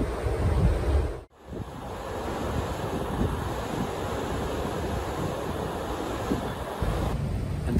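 Sea waves wash steadily in the open channel while a boat chugs homeward at night, a constant broadband rush with a brief dropout near the start, no voices.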